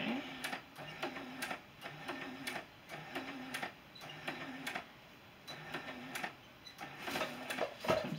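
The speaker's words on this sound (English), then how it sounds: "Sometimes my machine does this where it doesn't want to take more than one stitch at a time." A home sewing machine stitches a beginner's sampler quilt block, its quiet mechanical clatter running in short bursts with pauses, as if it is stepping through stitches rather than sewing steadily.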